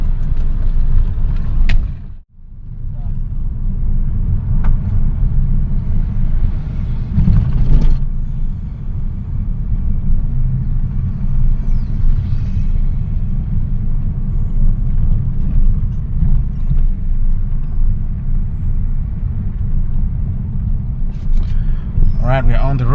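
A 2009 Honda Fit accelerates on the road, a loud steady engine and road rumble heard from inside the cabin that holds nearly constant after a brief dip early on.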